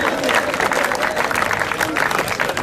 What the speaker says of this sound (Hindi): यार तालियां बजाते रहे